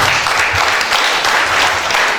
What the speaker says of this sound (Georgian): დიდი აპლოდისმენტები ჩვენს ნარი მომწევიდეს